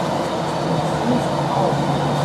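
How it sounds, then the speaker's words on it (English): A metro train in Beijing rumbles steadily along the track, a constant near hum and rush of wheels and motors with no distinct breaks. "Get on the metro system into town."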